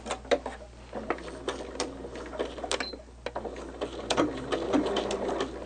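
A sewing machine runs in short bursts while stitching quilt seams, its rapid mechanical chatter stopping and starting with brief pauses between runs, close and fairly clear.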